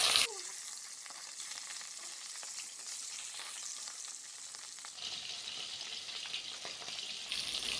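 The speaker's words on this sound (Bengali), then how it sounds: "তেলটা গরম হয়ে গেলে এখন আমরা মাছগুলিকে একে একে এতে দিয়ে দিচ্ছি।" Rohu fish pieces fry in hot oil in a wok, giving a steady, close sizzle with crackling spatter that runs the whole time, with no voices.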